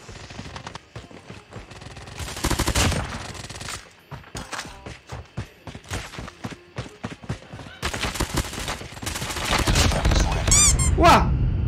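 AS Val rifle fire in a mobile shooter's tournament mode, rapid bursts of close, sharp suppressed shots in stuttering volleys, separated by brief gaps and mixed with game effects and a rising squeal near the end.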